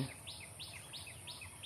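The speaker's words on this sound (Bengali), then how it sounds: "ওপাশে আবার কোরা পাখি ডাকতেছে।" A watercock calls in a steady, rhythmic run of repeated notes, faint and distant, with no voices nearby.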